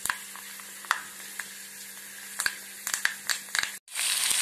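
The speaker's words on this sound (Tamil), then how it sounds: "வெந்தயம் நல்லா வெடிச்சாட்டு" Fenugreek seeds sputter and crackle in hot oil, with a steady sizzle broken by sharp pops in irregular bursts, close up.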